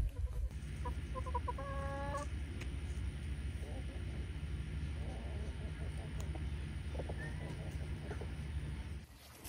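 Bantam chickens cluck and crow softly in a series of short calls over a low background hum, with a voice speaking now and then.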